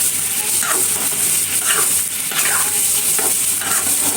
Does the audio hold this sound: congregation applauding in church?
no